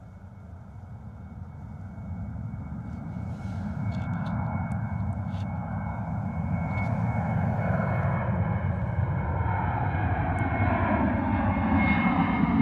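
A Ryanair airliner departing Gatwick roars overhead on a snowy day, a broad engine rumble that swells steadily from moderate to loud and stays close, with faint clicks nearby and no talk.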